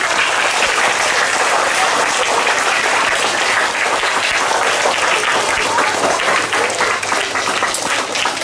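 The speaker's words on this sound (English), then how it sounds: "5A deserves a very big round of applause" Students fill a school Dussehra assembly with loud, steady applause for class 5A, dense clapping running unbroken throughout at close range.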